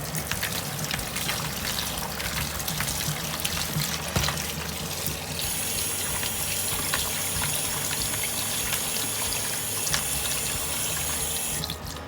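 Tap water runs steadily into a sink over raw pigtails and smoked ham hocks being rinsed, a continuous close gushing splash with no talking.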